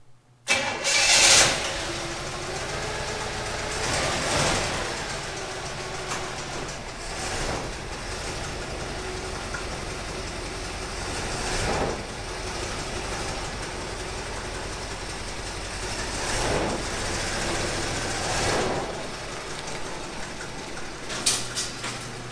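A 1964 Chevy Impala V8, off the road for decades, cranks and fires, then settles into a loud rough idle with the revs periodically swelling and falling back.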